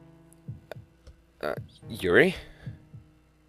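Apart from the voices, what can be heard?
heartbeats in the video game DDLC Purist Mod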